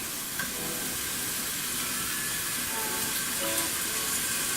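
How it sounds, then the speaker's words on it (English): Lamb sizzles in a frying pan of hot oil with a steady, close, dense crackle and hiss that holds evenly throughout without a break. "we're going to put the lamb in the frying pan, and you'll hear it start to sizzle and cook"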